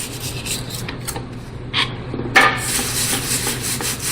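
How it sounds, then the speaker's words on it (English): Freshly installed R-Max MP repair material being trimmed by hand, giving soft scraping and rubbing strokes with a couple of sharper scuffs, close and fairly quiet, with no talking. "we are carefully trimming the material, being sure that we do not dig out any of the material that we have just installed"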